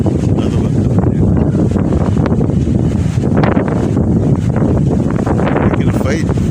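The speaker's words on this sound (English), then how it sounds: "I thought the wind would have died down by a bit today, but oh, this is as bad as last night." Strong gusty wind blows outdoors during a fossicking outing, buffeting the microphone in a constant loud roar.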